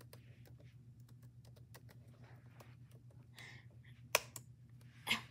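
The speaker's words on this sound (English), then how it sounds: "I'm going to enter the password" A password is typed on a laptop keyboard in quick, irregular soft clicks over a low steady hum, with a couple of louder taps and a brief rustle near the end.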